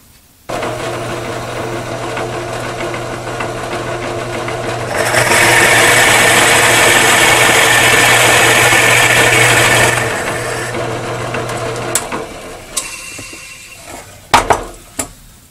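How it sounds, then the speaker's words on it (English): A drill press motor whirs steadily, then a louder grinding, hissing cut drilling a hole through wood runs for several seconds before easing back, followed by a few knocks as it winds down. "Now I'm going to take it to the drill press and drill a hole to accept the expandable chuck."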